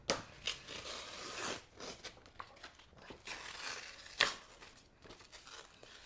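A sheet of 100 grit sandpaper is ripped by hand during fret work on a 1982 Gibson SG, giving a series of faint close tearing and crinkling bursts with sharp spikes and no talking.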